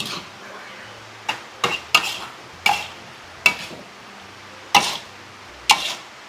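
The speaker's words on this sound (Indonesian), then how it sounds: "Kita aduk." Spatula scraping and knocking against a wok while seasonings of salt, MSG and stock powder are stirred in for fried kway teow, with sharp metallic clinks at irregular intervals close by.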